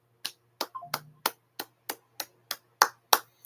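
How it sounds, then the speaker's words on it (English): Slow, evenly spaced hand claps from one person, about ten sharp close claps over a low hum, with a brief murmur between the early claps. "I'm gonna give Mike Tomlin a round of applause."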